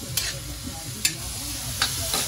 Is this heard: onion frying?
yes